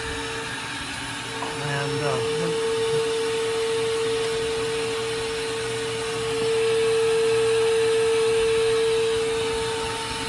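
A shop vacuum runs with a steady, loud droning whine throughout, growing slightly louder partway through, while someone speaks briefly over it.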